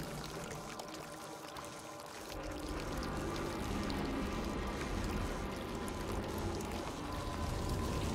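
Water surges and sloshes around a sinking boat in Layers of Fear 2, a steady rushing pour that swells louder after the first couple of seconds and continues close and unbroken.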